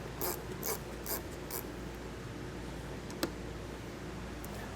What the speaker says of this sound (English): Then we're going to remove this T25 torque screw.